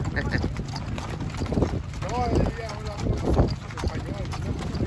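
Horse hooves clip-clop at a horse parade with riders on several breeds, the steady clopping running under constant nearby voices and crowd chatter.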